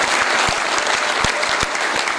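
Audience applause at a Hindi comedy poetry gathering (hasya kavi sammelan), loud dense clapping throughout, with a few sharper individual claps standing out in the crowd.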